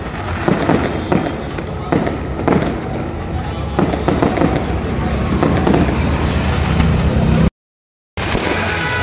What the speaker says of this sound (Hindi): पटाखा कम से कम में बहुत देर से फूट रहा है।